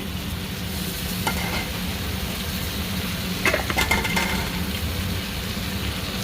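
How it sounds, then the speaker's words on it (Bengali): Tomatoes frying with spices in a pan, a steady close sizzle with occasional stirring scrapes and brief louder crackles, no talking. "টমেটোর সাথে মশলার সাথে ভালো করে ভাজা হয়ে গেছে"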